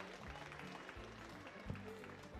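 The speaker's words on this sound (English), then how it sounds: "let's give those three ladies a great big round of applause as they exit the ring" Applause from the crowd at a county livestock sheep show as three exhibitors leave the ring, a faint, steady patter of clapping running throughout with a voice briefly over it.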